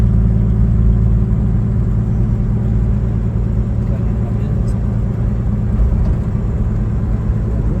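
A 1956 Chevy 210 engine hums steadily with a low rumble, cruising at an even pace with no talking.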